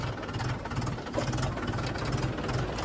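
A tractor engine idles steadily close by during plowing, a low, even chugging rumble with a faint knocking rhythm and no voices.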